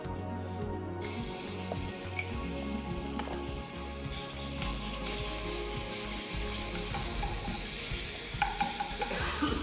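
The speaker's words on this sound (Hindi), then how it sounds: "तो यहाँ पे ऑयल के अंदर डालते हैं लहसुन अदरक का पेस्ट" Garlic ginger paste fries in oil for masala broast, a steady close sizzle with some stirring throughout, no talk.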